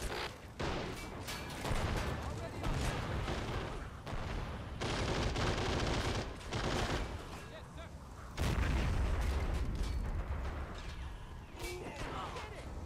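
Gunfire and artillery fire in a multiplayer war video game on a map called Shattered Town, with dense overlapping shots and heavy booms running throughout, loudest near the end, under game voice commands.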